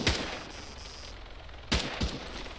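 Sniper rifle fire in the military shooter ARMA 3: a sharp, loud shot at the start, then two more cracks spaced about a quarter second apart later on, over a low background rumble.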